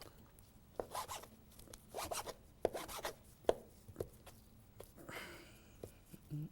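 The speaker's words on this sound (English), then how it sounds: "Then you cut them in your little chunks, however you want it." A knife chopping cooked patties into small chunks on a board, a series of irregular scraping strokes and a few sharp taps, fairly quiet and close, with no talk.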